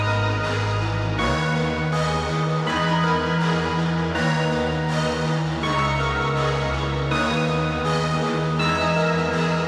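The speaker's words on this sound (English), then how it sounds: "pretty much the bell layer, I added like higher notes," Bell layer of high, sharp, piercing notes in a produced electronic track, ringing over a dense bed of sustained synth and bass that shifts note every second or so, loud and continuous with no talking.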